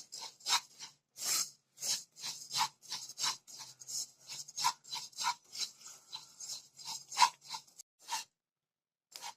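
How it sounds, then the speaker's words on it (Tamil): White sesame seeds dry-roasting in a hot pan over low heat, with irregular soft scraping and rustling strokes as the seeds are stirred, quiet and close with brief pauses. "நான் வெள்ளை எள் எடுத்திருக்கேன் பேன் நல்லா சூடாக இருக்குது அதனால நான் சிம்மில் வச்சே ஃப்ரை பண்ணிக்கிறேன்"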